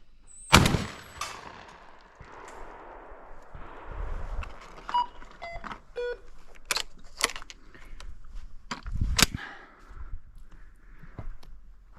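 12-gauge shotgun firing lead and steel cartridges outdoors, a loud close shot near the start followed by a string of sharp reports spaced irregularly, with faint beeps and background noise between blasts.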